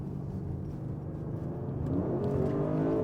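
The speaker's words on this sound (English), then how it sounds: "Now listen to the exhaust." An Audi RS6 Performance engine rumbles low and builds, rising in pitch as it revs harder toward the end, with a deep throaty exhaust tone and no talking.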